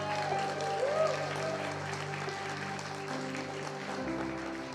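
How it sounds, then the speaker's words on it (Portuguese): A church congregation claps during a worship service, steady sustained applause filling the room with music or voices running underneath throughout. "Aplauda o Senhor com toda a tua força"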